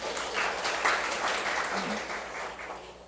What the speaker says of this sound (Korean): 저분에서 박수 한번 주세요.